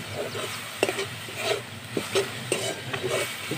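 Spoon scraping and stirring patishapta filling with roasted ground fennel and cardamom and date-palm jaggery in a pan, irregular clinks and scrapes over a soft sizzle, close and fairly loud.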